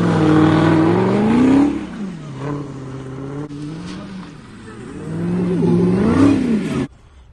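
A Dodge Hellcat's engine roars and revs hard while drifting, rising and falling in long, loud pulls with tire noise, then cutting off abruptly near the end.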